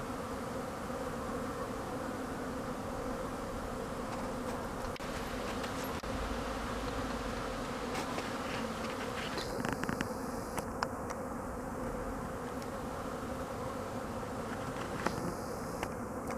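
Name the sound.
honeybees buzzing at hive entrance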